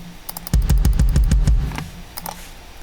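A quick run of soft, muffled kick drum thumps struck with a felt beater in an even rhythm, rounded rather than sharp, then the hits stop and a faint tail remains.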